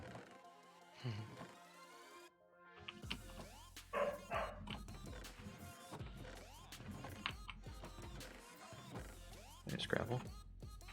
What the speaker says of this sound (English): And my dog's being annoying.